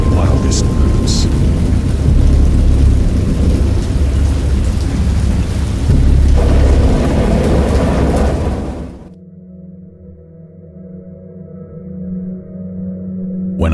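Thunderstorm with heavy rain in the video game Dagon, a loud, dense roar of downpour with deep rumbling that cuts off abruptly partway, leaving a quieter low hum.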